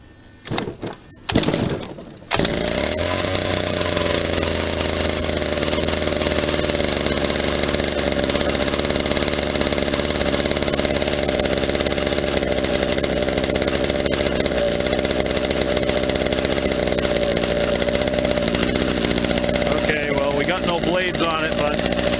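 A Predator gas engine with freshly replaced gaskets and adjusted carb settings runs steadily at high throttle with no load on the head, a loud continuous whine held for about twenty seconds after a couple of brief starting bursts.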